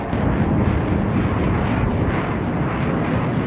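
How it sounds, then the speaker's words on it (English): A loud, broad jet roar of F-15 fighter jets flying overhead fills the air, a continuous rush mixed with wind buffeting the microphone. "There's some like F-13s, F-15s flying above me right now"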